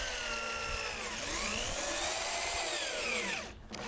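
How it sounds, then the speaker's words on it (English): A power drill driving deck screws into wooden 2x3 boards for a raised vegetable bed, whining steadily with a rising and falling pitch as it loads up, then cutting off near the end. "I pre-drilled and countersunk holes as shown here and drove deck screws into the 2x3s"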